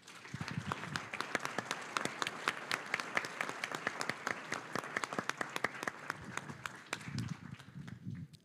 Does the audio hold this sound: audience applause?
yes